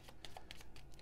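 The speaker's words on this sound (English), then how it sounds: "we will shuffle the driver cards." Driver cards from the Automobiles board game are shuffled at the start of a new season: soft, rapid riffling and flicking of cards, close and quiet, with no talking.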